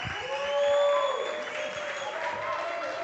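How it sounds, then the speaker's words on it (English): Audience applause at the Reporter Slam Africa 2024 as six slammers return to the stage, a steady moderate wash of clapping with a voice talking over it. "So maybe with the applause, bring back the 6 slammers to stage."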